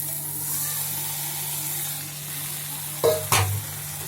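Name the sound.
water added to hot pan of fish curry sizzling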